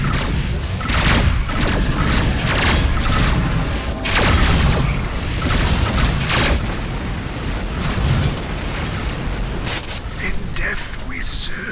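Incoming missiles explode in a space combat video game, a dense run of heavy booms and thuds layered over loud battle noise with computer voice callouts throughout.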